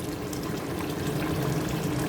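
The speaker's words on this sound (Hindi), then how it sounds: "1 ग्लास पानी डालूँगी" A glass of water pouring steadily into a pot of beef aloo gosht, a continuous splashing and gurgling from start to end.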